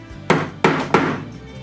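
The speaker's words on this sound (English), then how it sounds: "I'm going to take my awl and I'm just going to set a little tap hole so that my drill has somewhere to follow" An awl is tapped into wood to set a pilot hole, making three sharp, evenly spaced close knocks about a third of a second apart, each with a short ringing decay.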